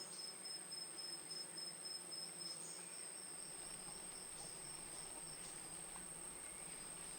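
Sweat bees at a flower buzz continuously in the background, a thin steady drone with a high, faint whine running over it.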